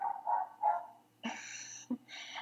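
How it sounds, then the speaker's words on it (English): A dog barks several times in the background during a podcast recording, loud, sharp repeated barks in quick bursts with a short pause between them. "I'm sorry if you can hear my dog barking."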